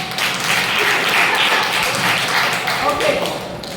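A group of people claps their hands together in steady, dense applause that lasts throughout, close and moderately loud in an indoor gathering.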